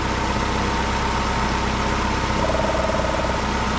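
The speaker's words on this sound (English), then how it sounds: "You have to have the engine running." A 2009 Ford Escape engine idling steadily, a close, continuous broadband hum with a faint tonal whine appearing partway through, no voices.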